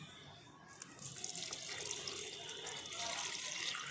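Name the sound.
pouring water onto potted plants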